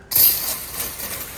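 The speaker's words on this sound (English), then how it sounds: "Brake clean." Brake cleaner sprayed from an aerosol can onto feathering propeller parts to degrease them, a single close hissing burst starting abruptly and tapering off over about a second.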